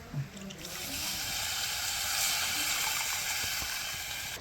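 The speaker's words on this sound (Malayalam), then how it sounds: "നമ്മുടെ വാളംപുളി നല്ല പോലെ ഒന്ന് പിഴിഞ്ഞങ്ങോട്ട് ഒഴിക്കും" Tamarind water squeezed and poured into a chilli curry in a home kitchen, a soft continuous trickle and splash of liquid, fairly quiet and close.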